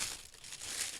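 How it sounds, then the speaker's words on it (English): Packaging crinkles and rustles steadily for a moment as a yarn giveaway prize, a project bag, is unwrapped close by, a soft continuous papery crackle with no talking. "And I apologize for the rustling"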